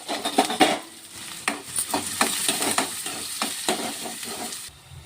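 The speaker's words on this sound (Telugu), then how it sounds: "ఒక కడాయి పెట్టుకొని దాంట్లో ఇంకొక నూనె వేసుకోవాలి తర్వాత ఆవాలు జీలకర్ర ఇవి మంచిగా చిక్కినాక పచ్చిమిరపకాయ ఉల్లిగడ్డ వేసుకున్నాం" Mustard seeds, cumin, green chilies and onions fry and crackle in hot oil in a kadai, a steady close sizzle with bursts of popping and a few spoon scrapes as the pan is stirred.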